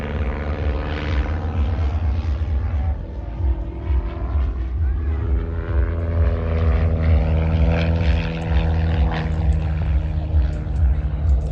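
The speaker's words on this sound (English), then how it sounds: "he's using all the performance at his disposal from the 180 horsepower Lycoming engine" An aerobatic light airplane with a 180 horsepower Lycoming engine performs rolls and stall turns at an air show, its propeller drone loud and steady, rising and falling in pitch as the plane climbs and turns.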